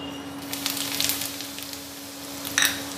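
Kasuri methi, cumin seeds and two dried red chillies sizzling in hot oil as a tempering, a steady close crackle with a few brighter spits near the end, no voices.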